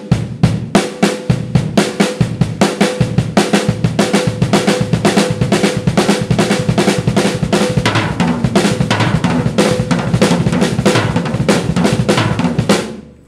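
Drum kit played alone in a bass drum pedal doubles exercise: fast, steady, close kick-drum strokes in paired patterns under constant bright cymbal and snare hits, loud and continuous for about thirteen seconds before stopping abruptly.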